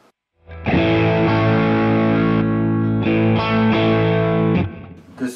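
Electric guitar played through a Rowin Bluesy Overdrive pedal at a bluesy setting, loud sustained overdriven chords ringing for about four seconds with a brief restrike midway, then fading into a few quiet notes.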